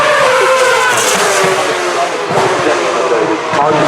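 David Coulthard driving a McLaren race car at the Festival of Speed, a loud, close engine roar with tyre squeal and skidding, mixed with crowd and commentary noise.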